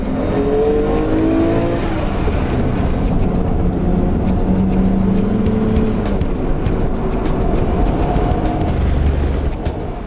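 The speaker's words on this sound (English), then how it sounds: "We jumped on board Jack's GT Real R33 GTR for a couple of warm-up laps" A Nissan Skyline R33 GTR race car roars on warm-up laps around the Oran Park GP circuit, its engine loud and close, rising and falling in pitch through gear changes and revs.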